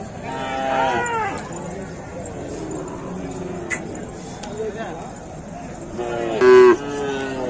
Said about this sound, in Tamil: நாட்டு ரக மாடு.